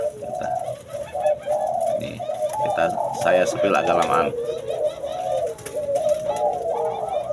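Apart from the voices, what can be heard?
green pigeon cooing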